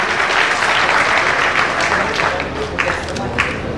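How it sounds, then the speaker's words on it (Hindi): Audience applauding at an 83rd birthday celebration event, a dense, sustained round of clapping from a large crowd that stays loud and slowly thins toward the end. "ताली हो जाए"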